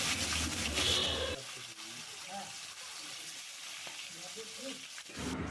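Catfish coated in salt and turmeric frying hard in hot oil, a steady crackling sizzle that is loud at first, then settles into a quieter bubbling hiss with faint clinks.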